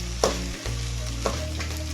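Egg rice is stirred in a hot pan, giving a steady frying sizzle broken by two quick scraping strokes of a spoon.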